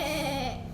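A voice imitates a goat's bleat, one short wavering cry.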